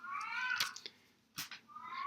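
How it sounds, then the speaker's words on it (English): A house cat meows for attention in the background, giving two drawn-out, faint meows separated by a short pause, with no talking over them. "If you hear noises in the background, it's the cat. He wants attention"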